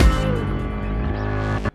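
Reversed piano hit, chopped into pieces and used as a transition effect in a song mix, swelling as a loud sustained tone with layered harmonics before cutting off abruptly.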